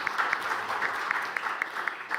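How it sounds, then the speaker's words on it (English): Audience applause at a conference session on forest and climate financing, a steady wash of clapping with scattered sharper claps standing out, moderately close and continuous throughout. "big applause for Andre Granda"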